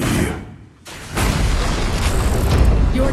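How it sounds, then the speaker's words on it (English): A tower crumbling in a ranked SMITE match, heard as a loud booming, rumbling collapse with mechanical creaks, a brief dip in level, then a sustained heavy roar. "Your team has destroyed a tower."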